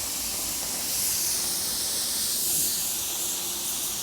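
A spray gun lays down a 2-to-1 polyester base coat paint on a 1979 Jeep: a steady, close, loud hiss of atomized paint that swells slightly and holds without a break.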